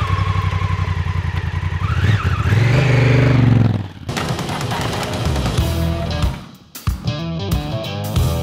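A Honda Africa Twin Adventure Sports motorcycle, 2016-2019 edition, revs and pulls away under acceleration, its engine pitch rising and climbing through gears up close, then settling into riding noise with wind buffeting and uneven rumbling toward the end.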